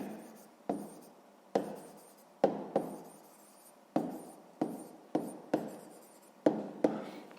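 Pen or pencil strokes scratching on paper while working through a sixth-grade math exercise, coming in short bursts of close, quiet writing separated by brief pauses, with no voice.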